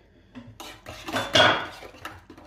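A utensil scrapes and clinks against a bowl while yeast and sugar are mixed into lukewarm water, a short rough stir that swells in the middle and then fades, close and fairly quiet.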